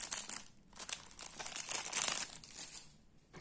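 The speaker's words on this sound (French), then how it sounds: "il y a certaines parties du sachet qui sont assez simples à déchirer" A small plastic LEGO parts bag crinkles and tears open up close, in bursts of crackly rustling that swell and fade over a few seconds, with no talking.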